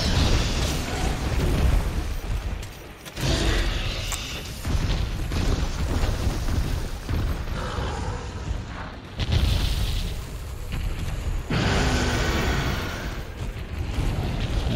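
Blast affliction explosions in Monster Hunter World during a Brachydios fight: loud, dense booming bursts fill the scene, with brief dips between heavy blasts and continuous rumbling in-game action throughout.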